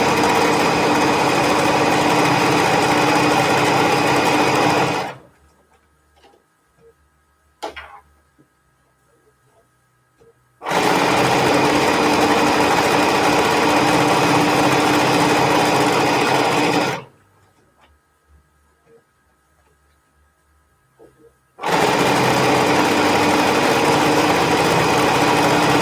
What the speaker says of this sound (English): And this I'm sewing a good 1/2 inch.